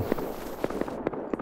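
Explosive-round gunfire in the survival game Rust, a quick series of sharp cracking pops spaced irregularly, fairly close and loud, with no talking.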